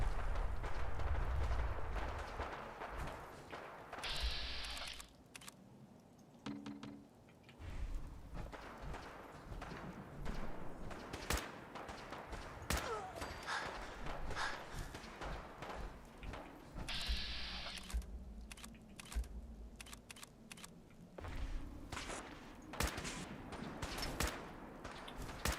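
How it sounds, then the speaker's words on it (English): Fallout 4 combat as gunners fire at a vertibird: repeated bursts of gunfire and heavy booms spread across the scene, loud and irregular, with sustained rumbling between volleys and no talk. "Gunner's out there shooting that vertibird."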